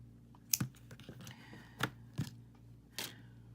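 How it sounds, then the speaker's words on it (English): Scissors snip suede cord in a few sharp, quiet cuts spaced irregularly over a faint steady hum, with no talking. "I'm just going to snip this off right here"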